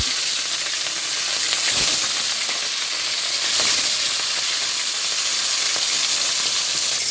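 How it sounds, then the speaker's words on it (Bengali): Rita fish frying in a pan gives a steady, close sizzle with a dense, even hiss throughout, swelling briefly twice as the oil spits more strongly. "মাছ ভাজা বসিয়ে দিয়েছি"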